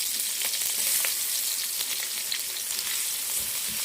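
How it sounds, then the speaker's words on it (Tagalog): Minced garlic sizzles in melting butter in a pan for a seafood boil, a steady bright crackling hiss with small pops throughout, close and fairly loud, with no voices over it. "habang tinutunaw natin ang butter, ilagay na kagad natin ang bawang."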